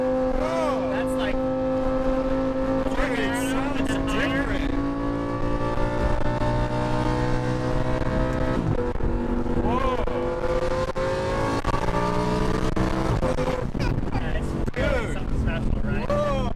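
A Lamborghini Huracan LP610-4 engine revs hard, its pitch sweeping up and dropping sharply on repeated downshifts. The loud, continuous roar runs throughout, with voices talking over it.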